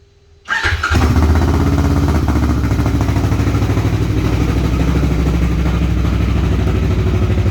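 A 2020 Kawasaki KRX on its original factory coils and plug wires, cold-started after sitting a week: a brief crank, then the engine catches and settles into a loud, steady, slightly uneven idle close by.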